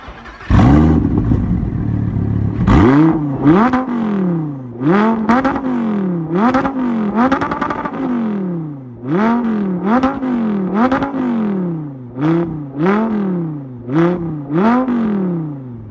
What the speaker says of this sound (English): you cannot replace the sound of a V10